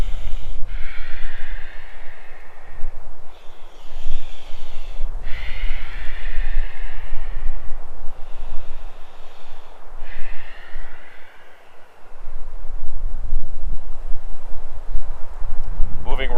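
Slow, deep breaths drawn in and out while holding a seated stretch for sciatic relief, several long airy cycles repeating steadily at close range against a constant low background hum.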